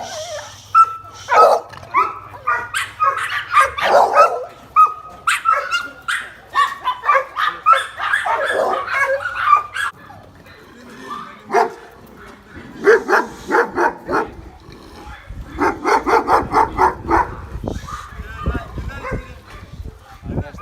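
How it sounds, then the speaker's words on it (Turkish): Street dogs bark repeatedly in bursts, some sharp yips and whimpers mixed in, fairly close and loud, with pauses between volleys. "bir köpek de yolumuzun üzerinde"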